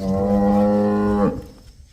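A pure Jersey cow at a farm lets out one loud, close, drawn-out moo with a rich harmonic tone, which ends abruptly and leaves a quiet, faint background.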